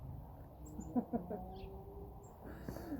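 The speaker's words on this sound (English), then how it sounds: "So there's a lot of birds here." Wild birds at a seed feeder in a front yard give a few faint, scattered chirps over a low outdoor murmur, with some louder low calls and rustling nearby.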